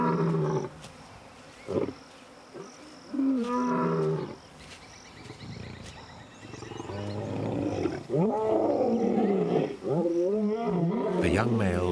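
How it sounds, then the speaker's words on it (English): Young male lions roaring to find each other in Nakuru National Park, Kenya: several deep roars and grunting bursts at uneven intervals, near and loud, with a faint insect buzz in the background and voices talking in between. "Their roars to find each other carry far and wide."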